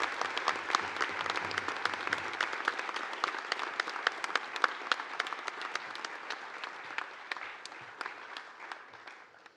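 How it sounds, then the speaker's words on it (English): Audience at a medical school white coat ceremony applauds the incoming class of 2029, a sustained crowd clapping with sharp individual claps standing out, gradually thinning and fading toward the end. "please join me with another round of applause for our class of 2029"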